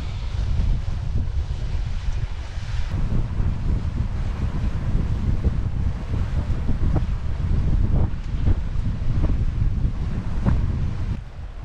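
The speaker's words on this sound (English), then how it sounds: "12 knots of wind on the nose, flying along at 5 to 6 knots, and hot." On a sailboat under way at 5 to 6 knots with about 12 knots of headwind, a constant loud rush of wind buffets the microphone. The splash of the hull through the water sits beneath it, and no one speaks.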